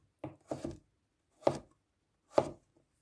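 A knife slices through cucumber on a cutting board in four crisp, separate chops, close and clean with near silence between them.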